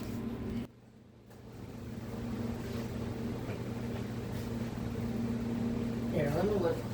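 A Honda Fourtrax 300 ATV engine idles very low with a steady hum after a brief drop at the start, running roughly under a faint background, with a short rattling burst near the end.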